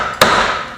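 One sharp metallic hammer blow strikes a greasy car axle during an Audi TT rear-wheel-drive conversion, a close, loud impact with a short ringing decay.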